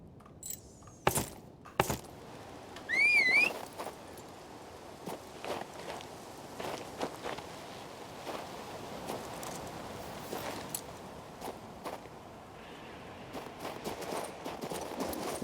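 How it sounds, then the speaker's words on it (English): In a video game, a summoned horse approaches with rhythmic hoof clip-clops that start faint and grow steadier over several seconds, alongside a short whistle-like call near the start and sharp clicks. "Summon horse."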